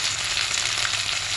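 Vegetables for veg manchurian frying lightly in a pan, a steady close broadband sizzle running continuously without pause.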